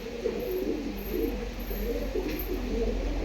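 Domestic pigeons coo softly in a low, rounded rhythm, several repeated calls at moderate distance with no talking.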